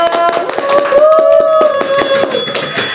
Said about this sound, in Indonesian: Tepuk tangannya mana dong?